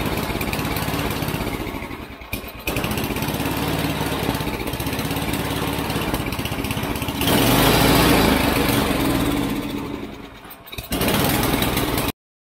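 A small engine running with the choke on, a steady loud drone that surges louder midway, dips briefly near the end, then picks back up. The engine can run only with the choke engaged.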